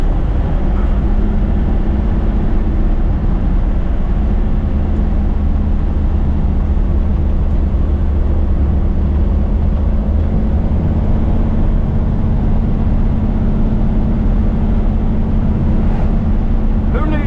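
A 1934 Ford Coupe cruises along the road, heard from inside the cabin as a loud, steady low engine and road rumble, with voices talking faintly beneath it.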